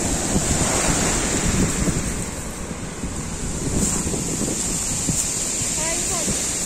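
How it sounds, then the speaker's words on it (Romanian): Sea waves wash over shells on a beach at Eforie Nord by the Astoria pier in winter, a steady close surf rush with strong wind buffeting the microphone throughout. "Sunetul ăsta al valurilor"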